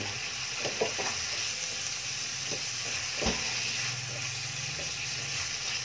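Mung bean sprouts simmer and sizzle in oil in a pan, a steady broadband hiss with a few soft clicks and utensil taps, close and even throughout.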